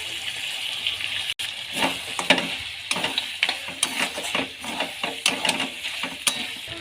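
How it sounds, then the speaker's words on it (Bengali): Ginger garlic paste goes into meat frying in a pan, giving a close sizzle with wet stirring and scraping noises, irregular bursts over a constant hiss, and one sharp click partway through. "এবার আদা রসুন বাটাটা দিয়ে দিচ্ছি এর মধ্যে।"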